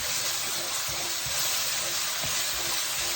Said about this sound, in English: now I need to fry this up, and I think I'm going to lower the temperature now to medium